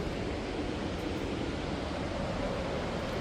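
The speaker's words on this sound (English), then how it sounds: "there's enormous water crashing against rocks noise" Steady, roaring rush of sea water crashing against rocks at Llandudno bay, a continuous broadband wash with no breaks and no voices.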